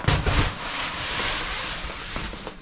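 Wet snow slides off the canvas roof of a portable ShelterLogic shelter in a snowstorm, pushed along by a spongy car snow brush: a broad, hissing whoosh, loudest at the start, then a steady soft rush trailing away.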